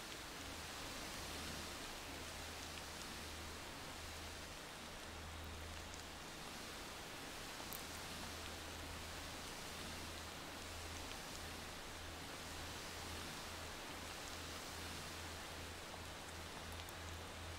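Steady, dense rain hiss from the driving game Motor Town, a constant even wash with no voices or other distinct sounds over it.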